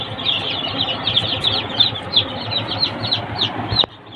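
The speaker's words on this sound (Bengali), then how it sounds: "টাইগার মুরগির বাচ্চা" Many newly hatched Tiger breed chicks in an incubator setting peep in a dense, high, continuous chorus of rapid chirps, close and lively, with faint fluttering underneath.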